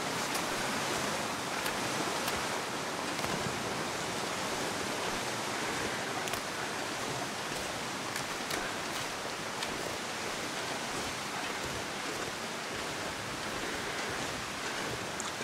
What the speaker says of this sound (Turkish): Bu şelale tahminen şuradaki bulut tipi şelalesi.